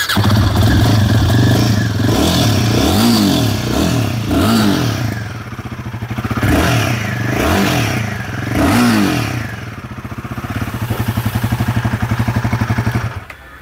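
A new Royal Enfield Himalayan 450 motorcycle starts up and idles, its single-cylinder exhaust note rising and falling through a series of loud, close revs before settling back into a steady idle, with no talking.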